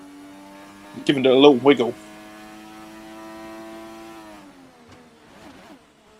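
Race car engine in a Bahrain Grand Prix racing video game, a sharp loud rev burst, then a long steady droning tone that eases as it runs down the straight, with someone talking over it.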